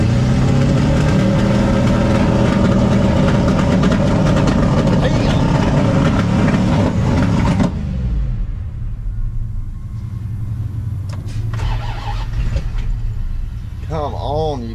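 A loud engine roars and revs heavily, then cuts to a lower idling rumble, with people talking faintly over it.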